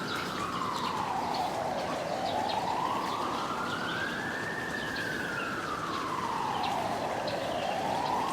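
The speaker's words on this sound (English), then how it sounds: "Flamingos amongst the police sirens." A police siren on a Hong Kong street near Kowloon Park wails in slow, continuous rising and falling sweeps, steady and moderately loud, with faint bird cooing and city background beneath.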